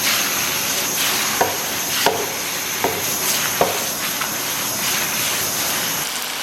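Tomatoes and green chili peppers sizzling and hissing in a hot wok as they are stir-fried for braised pork trotters, with a steady frying hiss broken by a few sharp spatula scrapes and clacks.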